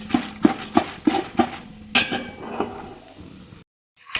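A utensil stirs roasted chickpeas in a hot pan, several rhythmic scraping clinks close up followed by quieter sizzling before an abrupt cut.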